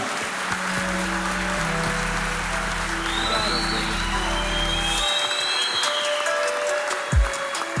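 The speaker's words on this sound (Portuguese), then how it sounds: "Você pode aplaudir Jesus pela vida do Léo?" A church audience applauds loudly and steadily for about five seconds after a talk, then the clapping fades to a few scattered claps and quiet room noise.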